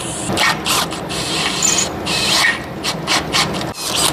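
A freshly sharpened cutting bit biting into material while a planishing hammer is being built, a rough rasping scrape in short repeated bursts, close and fairly loud, with no speech.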